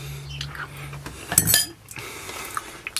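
A utensil scrapes and scores mashed potato topping on a cottage pie in a Trangia camping pot, with a few short scratchy strokes and a clink of metal at close range.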